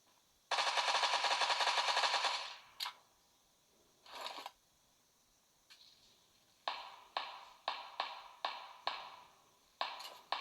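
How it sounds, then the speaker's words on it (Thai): PUBG gunfire plays on a mobile phone: a sustained automatic burst lasting about two seconds, a short second burst, then a steady series of sharp single shots at an even rhythm, loud and close, with no talking. "มีคนยิงเราแต่ผมหาไม่เจอครับตอนนี้"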